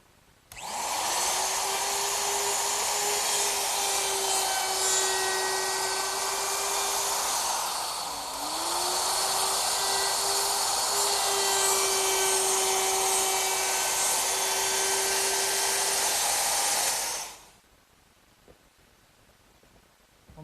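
A wood router fitted with a 1/4 inch round-over bit set shy of full depth eases the corners of a mission style sofa part, a loud steady high whine with a brief dip midway, then cutting off abruptly near the end.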